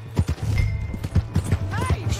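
A horse in the Red Dead Redemption 2 video game clip-clops along with steady hoofbeats, and a short whinny rises near the end, with a voice speaking over the game sounds.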